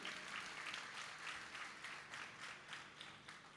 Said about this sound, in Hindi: जोरदार ताली बजा के उनका स्वागत करो